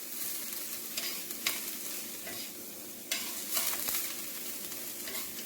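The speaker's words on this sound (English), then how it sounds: "I usually saute it just for a few minutes, just to get a good browning." Ingredients for southern spaghetti sauté in a pan, a continuous moderate sizzle broken by several sharp scrapes and clacks of a utensil stirring, with no one talking.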